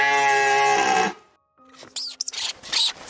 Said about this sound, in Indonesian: Ternyata itu adalah suara lemming Norwegia